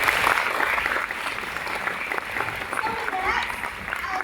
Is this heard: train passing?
no